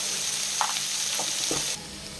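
Mixed vegetables and a roasted spice mix sizzle in a pan for a Bengali mixed bhaja, a steady close hiss broken by a few soft stirring scrapes before the sizzle drops away near the end.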